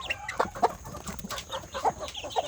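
Free-range village chickens and chicks cluck and peep in scattered short bursts, close by, with a soft hum of the surroundings underneath.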